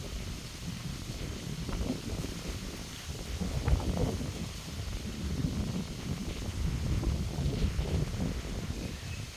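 Outdoor wind in the village of Visavada gusts and buffets the microphone as a low, shifting rumble, rising and falling at moderate loudness.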